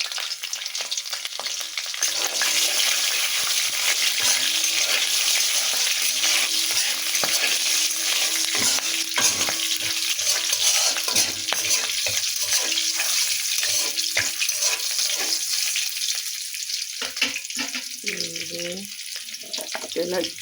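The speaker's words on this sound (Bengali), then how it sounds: "এখন আমি এখানে দিয়ে দিব গোটা জিরা মশলা, তেলানি করব" Whole cumin seeds and green chili frying in hot oil, a loud continuous close sizzle with crackling pops and stirring clatter, easing off toward the end.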